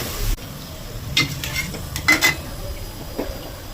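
Ingredients for South Indian namkeen poha fry until brown over a low gas flame, giving a soft sizzle under several scrapes and clinks of a utensil against the pan, heard up close.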